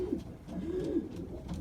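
A racing pigeon, a 500-mile race bird, gives soft, low, rolling coos up close, continuous and unhurried with no talking over it.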